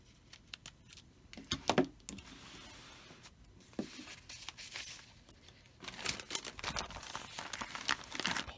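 A paper bag crinkles and rustles close by at a craft table, in irregular bursts with a louder crumple early on and a busier stretch of handling toward the end, no voices.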